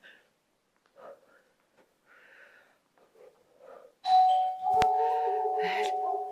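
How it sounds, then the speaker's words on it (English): A two-tone doorbell chime rings out loudly after a stretch of quiet, faint background activity, its tones sustaining for a couple of seconds. "That's my doorbell."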